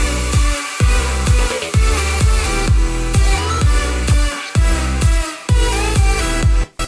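Electronic dance track built on layered synth leads over a pounding kick, with bright stacked lead tones pulsing in a steady four-on-the-floor rhythm, loud and upfront with no voices.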